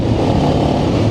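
Motorcycles racing alongside a vehicle on a scenic road in Pakistan, heard as a loud, steady engine roar close by with no speech.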